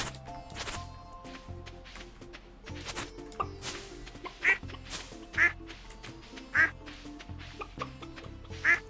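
Ducks on a farm in the video game Stardew Valley quack in several short, clear bursts, spaced a second or so apart over game sounds.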